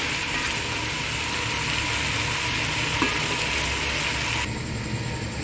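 Pieces of arbi (taro root) fry with cumin in a pan, giving a steady, close, dense sizzling hiss throughout with a faint clink of stirring partway through.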